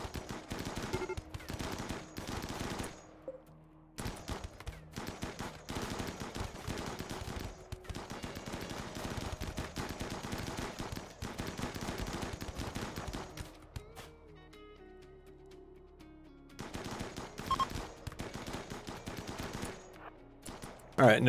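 RimWorld combat gunfire: dense rattling volleys of shots and machine-gun bursts go on for long stretches, with a quieter lull partway through, then more firing near the end.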